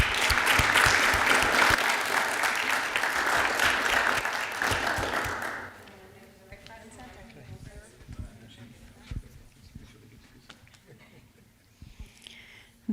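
Town council meeting audience applauding the vice mayor and a council member, a loud sustained round of clapping from a room full of people that stops abruptly partway through, leaving quiet room noise and scattered small sounds.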